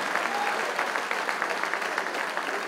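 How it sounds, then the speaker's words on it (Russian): Steady applause from an audience at an international boxing tournament in Vladikavkaz, continuous, dense clapping filling the room. "И я также требую аплодисментов для Замира Зикашева."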